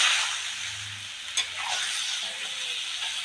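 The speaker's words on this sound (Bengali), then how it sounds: "এবার আমি শিল ধোয়া মশলার জলটা দিয়ে ভালো করে কষিয়ে নেব।" Vegetables, potato and papaya, sautéing in a pan after water rinsed from a spice grinding stone is poured in, giving a steady close sizzle with a brief clink or stir around the middle.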